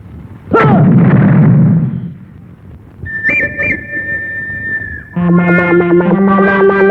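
A bomb goes off in a Tamil film comedy scene: one loud, sharp blast near the start that rumbles away, followed by whistling tones and then bright musical notes.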